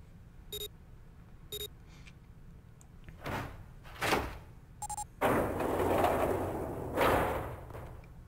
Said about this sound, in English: The door had opened.